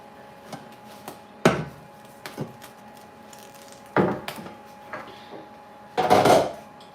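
Pots and pans handled in a home kitchen while preparing to boil soft rice, several sharp metallic clanks and knocks at irregular intervals, with quieter shuffling between them.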